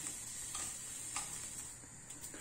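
Green peppers roasting over a stovetop flame for a pickle give a steady faint hiss with soft intermittent crackles and pops, heard close and alone.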